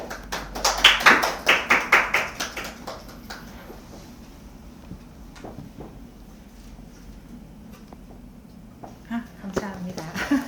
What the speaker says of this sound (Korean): 박수 주셔서 좋아요.